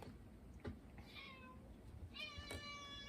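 A cat meows twice, a short, faint cry followed by a longer, drawn-out one, in a quiet indoor room.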